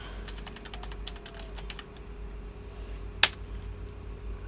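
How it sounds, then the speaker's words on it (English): A series of quick computer keyboard keystrokes as a command is typed in a blockchain tutorial, with a brief cluster of clicks early on and one sharp louder tap near the end, close and fairly quiet over a low hum. "We can do this by accessing the directory itself by typing the following command."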